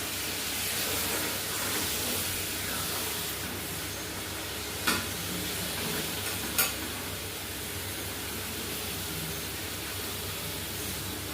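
Masala for a bottle gourd curry cooking in a pan after water is added, a loud, constant hiss of bubbling and steam with two sharp utensil taps partway through and no voices.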